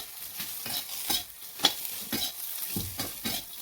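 Fasting chivda mix with sabudana chivda being stirred in a hot pan, giving a light dry sizzle broken by repeated rhythmic scrapes and rustles of the spoon moving the crisp mix, close and moderately loud.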